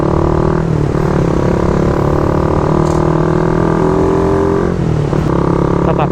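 Raider 150 FI motorcycle fitted with a Red Leo power pipe exhaust, riding with a steady, loud engine drone that shifts pitch slightly as it runs on the road.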